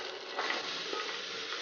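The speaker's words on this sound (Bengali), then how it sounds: "একটু ভাজা ভাজা করে নেব।" Vegetables fry in hot oil inside a pressure cooker, giving a continuous, fairly quiet sizzle with faint stirring scrapes throughout. No speech.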